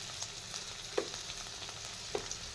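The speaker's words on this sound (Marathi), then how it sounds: "भेंडी आता अशी मस्तपैकी छान मऊसूत झालेली आहे आणि भेंडी छान आपली शिजलेली आहे." Okra cooks in a pan, giving a soft, steady frying sizzle with a couple of faint stirring clicks, quiet and close throughout.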